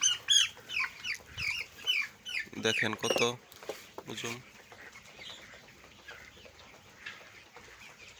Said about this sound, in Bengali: এখন আমি একটা মুরগি ধরতেছি।